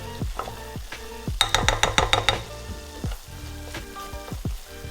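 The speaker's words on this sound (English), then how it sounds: "Gonna let that flour cook out for a little bit" Flour cooks in a pan, giving a soft continuous sizzle, with a burst of rapid metallic scraping or clicking in the middle and scattered low thumps, heard alone at moderate volume.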